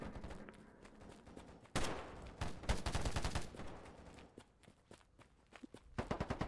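Gunfire in a free-to-play polygon-style shooter: bursts of rapid automatic shots and single cracks mixed with running footsteps, coming in loud clusters with quieter gaps between them.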